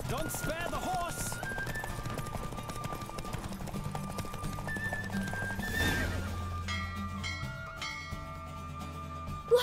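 Horse in The Witcher 3 galloping with a steady clip-clop while whinnying and neighing over game music, with a voice speaking at moments.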